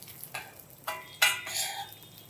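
Cumin seeds fry in hot oil while being stirred for coconut rice, with soft sizzling and a few distinct scraping stirs of a utensil against the pan.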